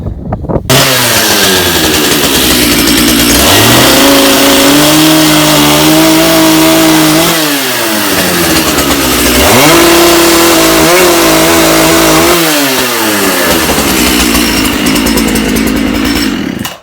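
A Dolmar chainsaw runs loudly and close, its engine revving up and down in repeated surges with a sustained buzzing whine and no talking.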